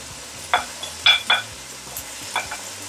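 Spices are stirred into chicken and macaroni in a pan with a few distinct scrapes and clinks of a utensil against the metal over a faint background sizzle, close and sparse.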